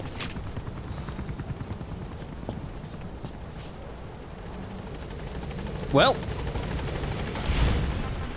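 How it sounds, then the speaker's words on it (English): A support helicopter in the video game Metal Gear Solid V sends a steady, loud rotor drone through the whole stretch, with a few sharp clicks and thuds over it and someone talking. "Hey, don't you dare leave, helicopter."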